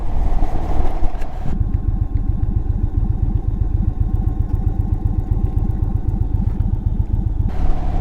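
A large 1.9-litre Indian motorcycle engine runs close by with a deep, steady, throbbing rumble that holds its pace throughout.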